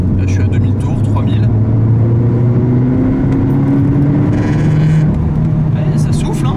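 Citroën DS3 Performance with its THP engine accelerating on the road from about 2000 to 3000 rpm, a steady rising engine drone with someone talking over it throughout.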